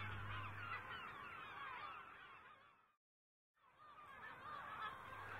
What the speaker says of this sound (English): another sound echoes across the centre, the all too familiar sound of gulls